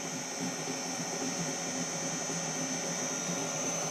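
A Centec milling machine spindle runs in reverse at about 187 RPM, giving a steady, even mechanical whir with a faint high whine, continuous and close throughout.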